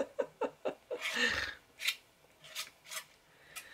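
A metal knife scrapes and flicks across clay while texturing dragon scales, giving a quick run of rasping strokes followed by a longer grinding scrape and several softer, spaced scratches up close.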